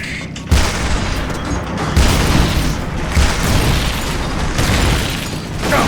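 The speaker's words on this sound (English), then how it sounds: "Main cannon ready to fire!" A tank's main cannon fires in the Metal Gear Solid Peace Walker video game, several heavy booms landing a second or more apart over continuous loud battle noise.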